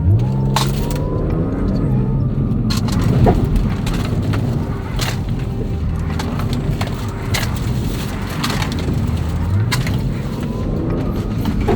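A car on FK510 tyres drives a slalom course on a road test, with a loud steady engine and road roar, intermittent tyre scrub and a low rising whine from the drivetrain.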